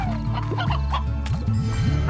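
Chickens cluck repeatedly in short choppy bursts over a steady electronic background in Slime Rancher, close and fairly loud, with synthetic game-like tones.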